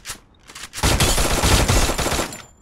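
A loud, dense burst of automatic gunfire from the video game Free Fire, heard close and continuous for about two seconds after a couple of brief shots.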